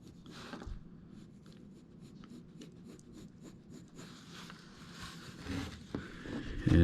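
Pen or stylus dragging over leather while a feather outline is drawn, a soft, steady scratching with short rubbing strokes, close and quiet throughout, with no talking.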